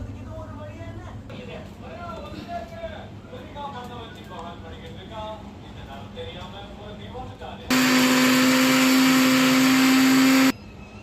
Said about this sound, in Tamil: இதை ஒரு மிக்ஸி ஜாரில் போட்டு நல்லா அரைச்சி எடுத்துட வேண்டியதாங்க